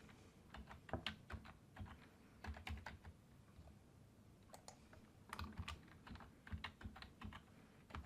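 Rapid typing on a computer keyboard while entering a wallet password on Windows, with quiet, close, irregular key clicks in bursts and short pauses.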